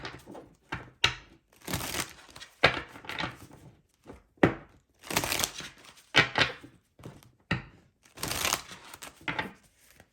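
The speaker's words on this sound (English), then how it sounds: "let me shuffle again" Tarot cards are shuffled in repeated bursts of crisp riffling and slapping, with short pauses between each pass. Close and fairly quiet, no talking.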